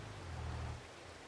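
Steady rain falling in Farming Simulator 22, a soft continuous hiss with a low rumble that fades after the first part, faint and alone.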